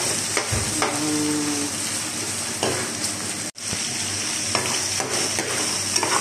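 Shrimp stir-frying with onion and garlic in a pan, a loud continuous sizzle with stirring scrapes and light utensil clinks, no talking.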